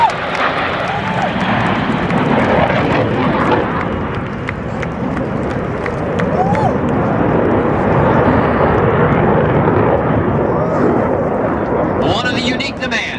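U.S. Navy Blue Angels jets at the 1997 MCAS El Toro air show, a loud, continuous broadband jet roar that fills the whole stretch, swelling slightly as the aircraft pass, with crowd and announcer noise mixed beneath.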